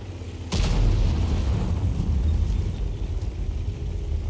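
An M53/M55 self-propelled artillery gun in a tank battle game fires a single loud, deep boom about half a second in, followed by a lingering low rumble and reverberation.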